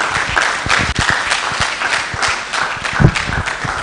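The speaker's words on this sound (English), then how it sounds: "I trust by that clapping ovation" A hall audience bursts into steady, dense applause at a university event after a presentation, many hands clapping close and loud throughout with no pauses.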